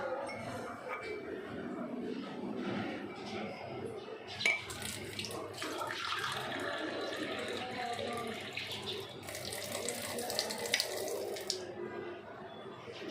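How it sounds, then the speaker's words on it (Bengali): Water runs and splashes at a low level as it is poured for homemade soup, a continuous trickle with a few brief louder gushes, while a person talks over it. "তো ফার্স্ট কাপ পানি নিয়ে নিয়েছি আমরা"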